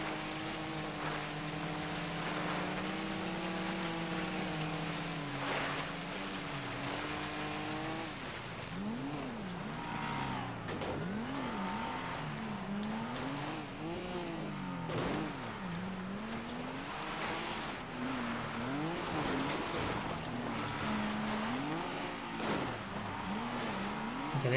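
A large pack of racing cars roars along in the video game GTA Online, engines rising and falling with gear changes over a dense continuous drone, with brief tyre squeals and no pauses.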